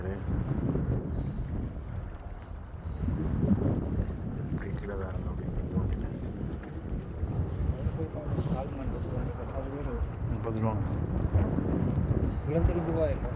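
Wind blows across natural Norwegian scenery, a steady rough rushing that buffets the microphone, with someone talking over it throughout.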